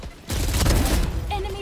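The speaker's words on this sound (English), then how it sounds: "Swamp grenade out." A swamp grenade detonates in a video game: after a brief quiet moment a sudden loud burst erupts, roaring and crackling for about a second before fading, followed by short electronic game tones.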